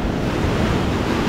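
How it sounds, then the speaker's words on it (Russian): Stormy winter sea surf pounding a Turkish shore, a continuous loud roar of crashing waves mixed with heavy wind buffeting the microphone, no voices. "А волна-то вообще пошла нормальная такая."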